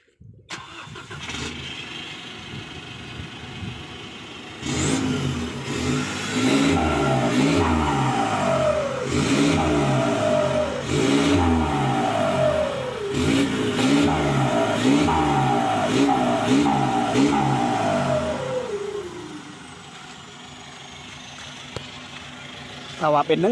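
A car engine fitted with a 1.9 exhaust flange starts up and then revs repeatedly in short, loud blips, each rising and falling with a booming exhaust note, before settling toward idle.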